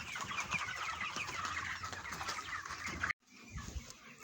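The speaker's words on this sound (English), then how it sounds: "right now my chickens are consuming 100 liters, way over 100 liters of water" Broiler chickens on a Kenyan farm cluck and chatter steadily at close range, a dense flock sound that cuts off briefly near the end before resuming more faintly.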